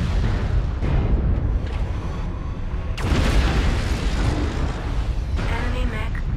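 A mech blowing up in the video game MechWarrior Online: a sustained, loud rumbling blast that swells sharply midway, a heavy explosive roar filling the whole clip amid constant battle noise.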